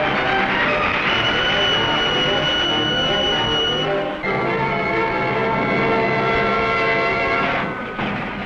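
Steam train rolling through a 1964 wartime film scene staged with special effects, a loud continuous rumble of wheels and machinery with sustained whistle-like tones, briefly dipping midway.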